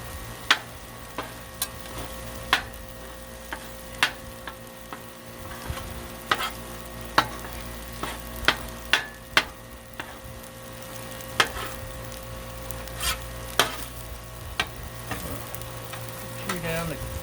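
Cajun fried rice sizzles steadily on a hot Blackstone griddle while two metal spatulas strike it in sharp, irregular clacks, chopping close up.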